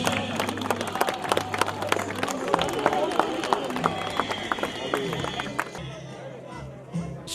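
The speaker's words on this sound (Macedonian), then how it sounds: "Еден аплауз." Crowd clapping at an Ilinden village celebration in Plakje, a dense patter of many hands spread through the whole stretch, with voices talking over it and someone speaking throughout, easing off near the end.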